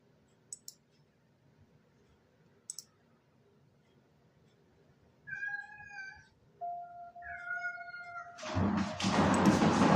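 A pet cat meows near its cat exercise wheel, with several clear tonal meows after a few faint clicks, then a loud rushing, rumbling burst near the end as the wheel likely starts moving.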